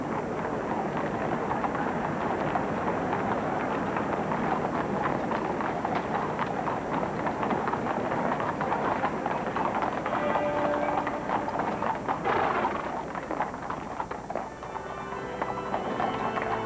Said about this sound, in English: The silence of the crowd was punctuated only by the clatter of horses' hooves.